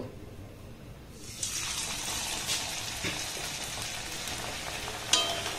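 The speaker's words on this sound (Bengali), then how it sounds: "এবার দেখুন যে পিঠেগুলোকে বানিয়েছি সেটা এবার এই তেলের মধ্যে দিয়ে দেব" Coconut-filled rice-flour dalia pitha drop into medium-hot oil and break into a steady, bright sizzle that starts after a quiet moment and keeps going close by, with a few small pops.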